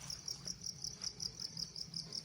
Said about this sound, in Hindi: जबकि रात को बहुत सारे कीड़ों की आवाज़ सुनाई दे रही हैं।